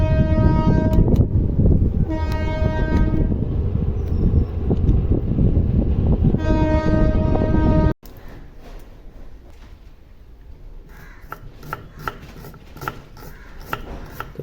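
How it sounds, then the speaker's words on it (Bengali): Train on a railway line beside a house passing close and loud, its horn sounding in several long blasts over a heavy rolling rumble, then cutting off abruptly to quieter ambience with faint ticking clicks. "আমাদের বাড়ির পাশে আর কি রেল লাইন আছে, কত সুন্দর, মানে আবহাওয়াটা যেরকম মানে হাওয়া দিচ্ছে হালকা হালকা, তারপর ট্রেন যাচ্ছে"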